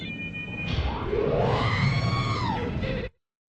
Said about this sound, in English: That R2 scream.